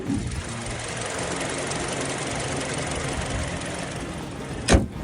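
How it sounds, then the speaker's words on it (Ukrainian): A 2018 Hyundai Kona 2.0 AWD engine idles with a steady, even mechanical purr, ending with a brief sharp knock near the end. "Слухай мотор."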